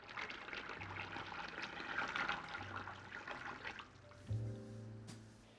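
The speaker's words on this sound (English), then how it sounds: "Add about 2 cups water." About two cups of water pour into a cooking pot of eggplant and chickpeas, a steady splashing stream that fades, followed by a brief sloshing gurgle, close and moderate.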